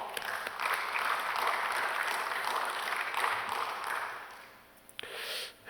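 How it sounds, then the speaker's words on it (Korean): A church congregation applauds during a sermon, a sustained wash of clapping that fades out near the end, followed by a couple of sharp knocks. "박수."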